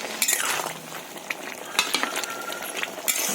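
Curry simmering in a pot being stirred with a utensil, with scraping swishes and a few metal clinks over a bubbling background, moderately loud and close, no talk.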